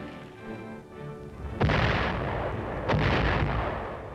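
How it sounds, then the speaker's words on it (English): Mortar fire on a battlefield: two heavy booming blasts about a second apart, each with a long rumbling tail, over a low background hum. "Mortar fire is one of the infantryman's greatest enemies."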